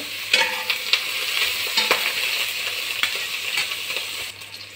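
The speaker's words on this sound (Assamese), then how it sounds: "পেঁয়াজটা ভাজিলাম।" Onions sizzle in a hot pan for pulao with garam masala, a steady crackling fry punctuated by repeated scraping taps of a stirring spoon, close and fairly loud.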